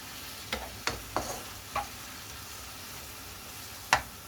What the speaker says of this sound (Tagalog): Halo-haloin natin guys.